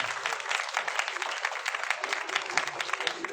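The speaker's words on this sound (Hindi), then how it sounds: "एक बार इनके लिए तालियां।" A crowd claps for a group of children at a gathering, a lively, continuous patter of many hands that stays bright and close throughout.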